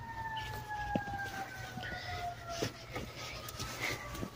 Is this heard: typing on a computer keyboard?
no